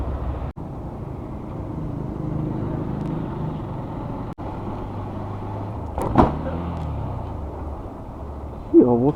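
Idling cars and a motorbike sit in a traffic jam near Alipore court, Kolkata, a steady low engine rumble with a brief whirring window or horn sound partway through and another near the end.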